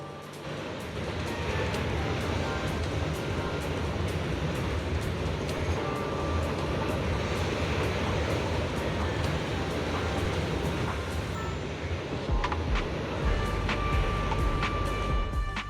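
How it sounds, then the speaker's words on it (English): A train in the video game Zenless Zone Zero rumbles and roars as it hits and shoves a character, a loud, steady rushing noise with sharp clanks and ticks scattered across its length. "Let's see what happens when you get hit by a train in Zenless Zone Zero"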